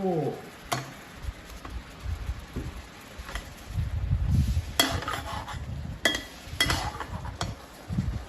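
Tofu slid into a pan and stirred while cooking a dish of morning glory sprouts with egg tofu, heard as scattered utensil scrapes and clinks against the pan over a low background rumble, with no speech.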